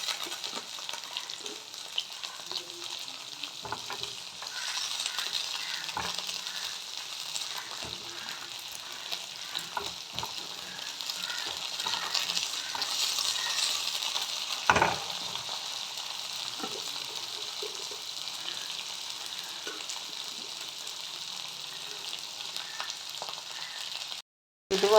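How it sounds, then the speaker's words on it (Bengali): Cauliflower and other vegetables fry steadily in a pan as dalia pulao is made, a continuous sizzle with occasional stirring scrapes, no talk. "এবার দেবো কপি। যে সবজিগুলো ভাজতে একটু টাইম লাগে সেইগুলো আগে দিয়ে দেবো।"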